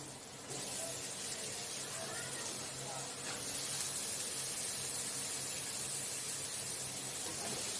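Potatoes fry in a spice paste for a paneer curry, producing a steady, fairly quiet sizzling hiss that grows slightly louder partway through and carries on without pause.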